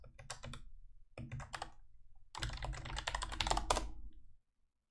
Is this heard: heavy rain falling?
no